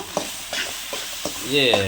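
Onions and tomatoes fry in a pan for a chicken gravy, with a steady sizzle broken by several spoon-stirring scrapes and a louder hiss toward the end.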